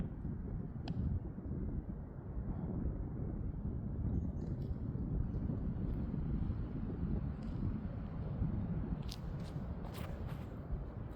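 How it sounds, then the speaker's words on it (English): A strong left-to-right tailwind blows across an outdoor course, buffeting the microphone with a steady, low, roaring rush for the whole stretch. A few faint clicks and taps come near the end. "Man, that wind."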